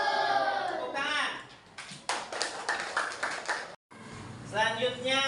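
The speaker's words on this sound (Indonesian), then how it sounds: "Tepuk tangan." Schoolchildren in a classroom clap their hands in a brief burst of sharp, quick claps, surrounded by an adult and children talking before and after.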